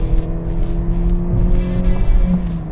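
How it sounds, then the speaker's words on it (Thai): Toyota Vios 1.5 E from 2013 fitted with a deep aftermarket exhaust, driving with a steady low engine drone and rumble that stays loud and continuous throughout, with no talking. "คันนี้ มีท่อมานะครับ เพาะนี่ทุ้มๆเลยเพาะๆเลย"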